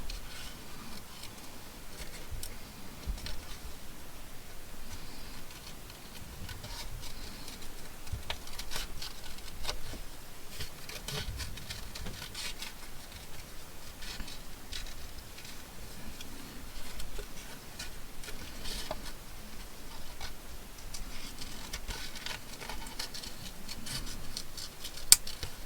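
Scissors cutting out a paper picture for a junk journal, a long run of quiet, close snips and paper rustles in an irregular patter, with no talk over it.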